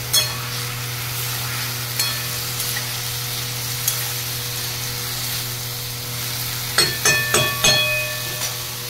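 Boiled banana flower and potato stirred in a frying pan give a low sizzle over a steady hum, followed near the end by a quick run of scraping spatula strokes, with no talking.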